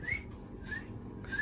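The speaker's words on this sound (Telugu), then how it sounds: "ఆ విజిల్ ఎందుకు మధ్యలో?" A toy whistle blown during a festival family gathering gives three short, shrill toots spaced about half a second apart, fairly faint, with low background murmur and no clear speech.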